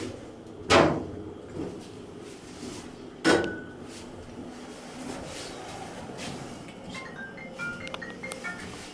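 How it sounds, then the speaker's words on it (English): Elevator doors at a hotel tower in Reno slide and bump shut, with two sharp thuds standing out against a quiet lobby hum, followed by faint soft tones. "Those are doors."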